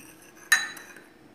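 A metal spoon clinks once against a dish while stirring a salt and lemon mixture, a single bright chime that rings out briefly in an otherwise quiet room.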